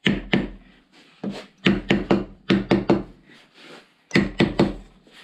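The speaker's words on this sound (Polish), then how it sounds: "A i gumowym młotkiem bić." A rubber mallet knocks on the cap of a motorcycle shock absorber from an Xmotos XB37/XB39 or Barton NXT 300 during an oil change: close, dull thuds in quick bursts of three or four blows, separated by short pauses.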